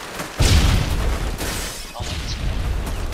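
A stun grenade detonates in the shooter game Modern Warfare 2 as a single loud, close blast, followed by a dense rumbling roar that persists through the rest of the moment.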